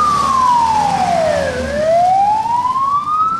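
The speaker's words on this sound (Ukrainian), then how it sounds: "надійшов виклик і швидка поїхала" An ambulance siren wails loudly and close as the vehicle leaves a city hospital in Slavutych on an emergency call, its pitch sweeping down and back up in one long continuous cycle.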